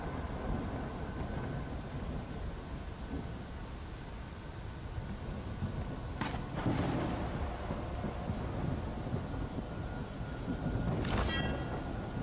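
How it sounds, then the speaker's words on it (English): Rain and thunder in the video game Forgive Me Father: a steady wash of rainfall fills the scene throughout, broken by two sharp thunder cracks with rumbling tails, with no talk over it. "Rain is here."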